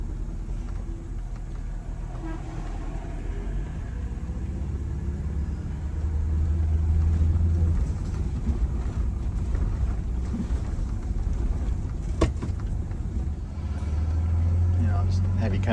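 An overweight bus fitted with a new turbo but running low on boost drones along under steady wind buffeting. Its deep engine rumble swells twice as it accelerates.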